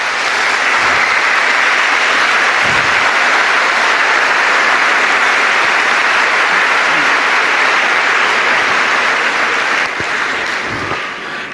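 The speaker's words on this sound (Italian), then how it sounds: "io vi invito a fare un omaggio a loro con un bel applauso" A large audience applauds loudly and continuously for over ten seconds at a papal general audience catechesis, a dense, even wash of clapping with no break.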